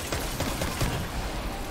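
Sniper fire in the shooter Destiny 2 comes as a quick run of muffled, evenly spaced cracks, steady and moderately loud over dense background noise.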